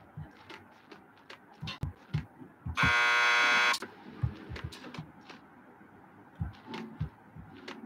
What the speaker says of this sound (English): Want to get to the lockup? Just press the buzzer by the door.